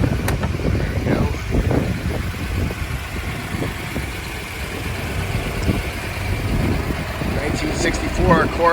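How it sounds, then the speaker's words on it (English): A 1964 Corvette with a factory fuel-injected 327 engine idles outdoors with a steady, loud, lumpy rumble that runs the whole time, and people speak over it. "'64 Corvette, fuel injected."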